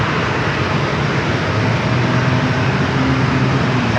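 An airliner from Phoenix flying at San Diego airport, a loud, continuous roar of jet engine noise with a steady low rumble.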